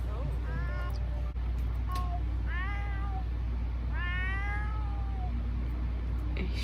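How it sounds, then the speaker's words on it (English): A cat in The Sims video game meows several times in short rising-and-falling calls over a steady background hum, with a person's voice present. "I feel like that is definitely a cat thing"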